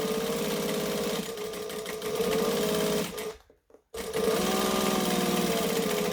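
Close and loud, a sewing machine runs a decorative stitch on a metro bag, a steady mechanical whir with rhythmic needle ticking that stops briefly midway, then resumes at full speed.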